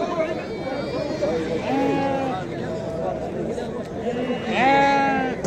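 Sheep bleat repeatedly at a weekly livestock market in Sebt Aglmous, Morocco, their wavering cries rising over steady crowd chatter and nearby voices haggling.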